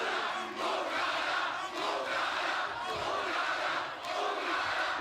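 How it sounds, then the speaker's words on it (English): A large arena crowd at a TNA pro wrestling event chants in loud, rhythmic unison, the swells repeating about once a second and filling the space throughout. "you heard the crowd chanting it"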